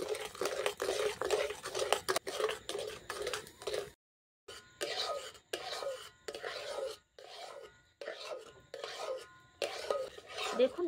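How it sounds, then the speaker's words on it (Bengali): Sugar being stirred into homemade bael fruit jelly in a pan: steady rhythmic rasping scrapes of a spoon against the pan, close and fairly loud, with a brief pause partway through before the strokes resume. "এরপর আমি ভালো করে মিশিয়ে নিচ্ছি চিনিটা।"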